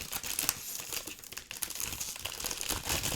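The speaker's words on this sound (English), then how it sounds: "Yeah, crumpling plastic wrap. That's a great sound" Plastic wrap from an RX-78-2 Gundam Entry Grade model kit is crumpled and crinkled up close, giving a dense, continuous crackle with no talking.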